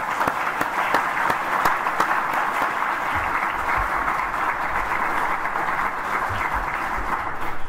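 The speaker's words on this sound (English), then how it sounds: "let's give Gene and Virginia a round of applause" An audience at an Alzheimer's research center gathering applauds steadily, a dense continuous clapping that fills the room at full volume.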